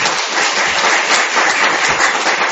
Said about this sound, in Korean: 다시 한번 박수 한번 하시죠